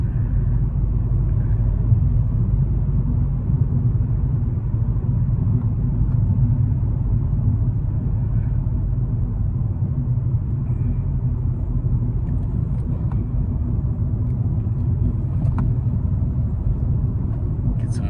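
A 2012 VW Golf TDI diesel with a manual gearbox rumbles steadily from inside the cabin during rev-matched downshifts, a low continuous engine drone with slight swells in pitch.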